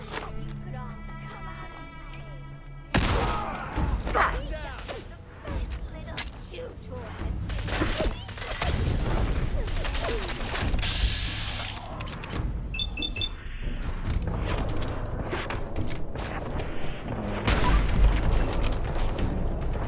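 Grenade blasts and gunfire in Fallout 4 at Milton General Hospital, heavy booms and chaotic bursts following a quieter stretch, loud and close, with game sounds layered throughout.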